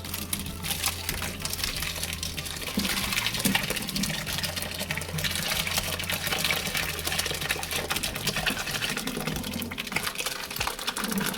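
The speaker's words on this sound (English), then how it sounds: "now I'm going to very gently, slowly pour in the cheese." Ricotta curds and whey being gently poured into a colander lined with three layers of cheesecloth in a sink, a steady close splashing gush of liquid that runs unbroken for several seconds.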